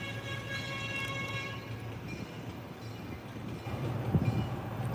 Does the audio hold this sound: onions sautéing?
no